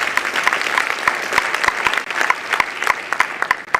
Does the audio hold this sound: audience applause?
yes